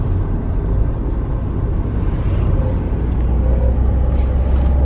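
Mercedes E200 car engine pulling uphill in fourth gear at low revs, a loud, steady low rumble with road noise filling the whole stretch, no voices.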